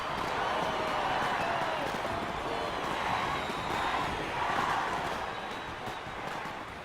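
A Brazilian carnival street crowd chanting and shouting in celebration, a continuous roar of many voices at moderate distance, steady and sustained with a faint reverberant wash.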